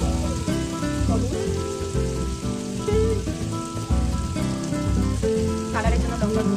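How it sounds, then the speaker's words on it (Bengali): Spice masala frying in a pan, a steady broad sizzle with a rain-like texture running throughout, close and fairly loud, with faint background music underneath. "ভালো করে মশলাটাকে কষিয়ে নিতে হবে।"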